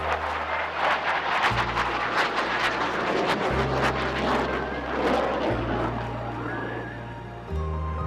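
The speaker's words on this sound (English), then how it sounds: "as you see the pilot coming in for the inverted flight maneuver" An aerobatic aircraft performing an inverted-flight manoeuvre at the Bengaluru Air Show 2025, a sustained loud engine roar that swells and wavers over a busy outdoor crowd backdrop.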